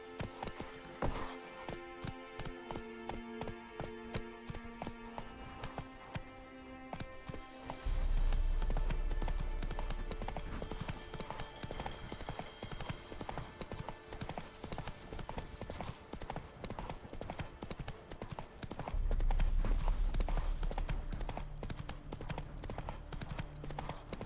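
Roach the horse gallops in The Witcher 3, hooves clip-clopping in a fast steady rhythm over a game music score, with a couple of low thumping swells along the way.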